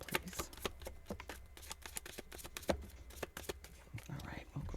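Tarot cards are shuffled by hand in quick riffles and taps, a rapid run of crisp slaps and flutters at close range, with faint breathy murmuring between bursts.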